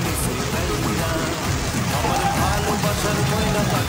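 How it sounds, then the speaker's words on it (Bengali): Heavy rain pours down on an empty street during a festival evening, a dense, even hiss that holds unbroken throughout. "জোরে আবার বৃষ্টি বৃষ্টি পড়ছে"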